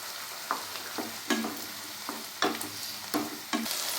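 Chopped tomatoes frying in a pan for tomato chutney, stirred with a spoon that scrapes and clacks every half second or so over a steady close sizzle, with no voices.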